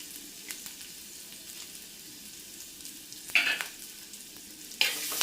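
Chopped ginger, green chilli and curry leaves sizzling in a little oil in a pan, a steady close hiss with louder bursts of spatter and scraping as the spoon stirs them.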